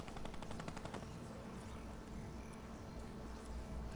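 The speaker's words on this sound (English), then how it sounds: "There's some automatic fire." Automatic gunfire in an online multiplayer video game, heard as a rapid burst of shots up front that gives way to a quieter, steady background rumble.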